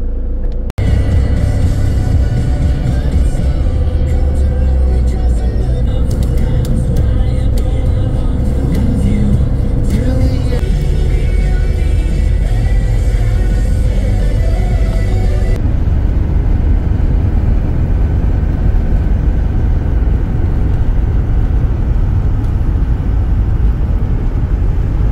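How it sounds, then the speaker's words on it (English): Road traffic rumbling steadily around a van stuck in slow traffic in the Peak District, with a continuous low engine drone and passing vehicle noise, under and alongside occasional speech. "Just stuck in a bit of traffic at the moment"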